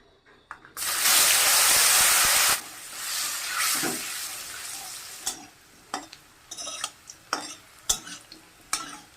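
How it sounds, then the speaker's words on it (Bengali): Potatoes hit hot mustard oil with turmeric in a loud burst of sizzling that fades to a softer fry, followed by several clanks of stirring. "আলুটা আমি এখন ভাইজা নেব"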